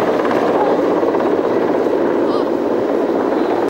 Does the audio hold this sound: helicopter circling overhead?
yes